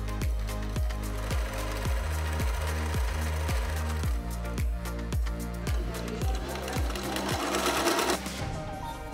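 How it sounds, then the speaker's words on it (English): Sewing machine stitching binding along a quilt edge, a loud, rapid run of rhythmic needle thumps that pauses briefly before resuming, with a faint clatter near the end. "Stitch to the end of one side, stopping at 1/4 inch before the end."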